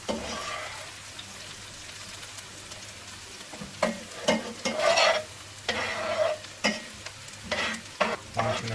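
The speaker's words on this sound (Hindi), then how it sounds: "इसको अच्छे तरीके से भूनेंगे ताकि ब्राउन, जब तक ये भुन जाता है" Onions and red chili fry in an oiled karahi for chicken butt karahi. A low steady sizzle runs under repeated spatula scrapes and knocks, which grow louder and more frequent in the second half.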